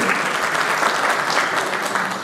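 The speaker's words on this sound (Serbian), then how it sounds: "Još jedno velike aplauz za gospodina Carla Zoli." An audience at an international conference and symposium claps for a guest professor, a dense, steady round of applause that holds at full strength throughout, with a faint voice underneath.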